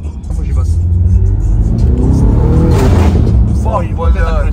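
A BMW M5 F90 with a very loud exhaust revs hard and stays loud throughout, sustained close engine roar with crackling bursts, while people talk over it.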